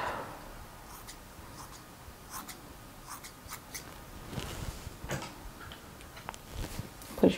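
Scissors snipping the ends of hair, soft scattered close snips, quiet with no talk.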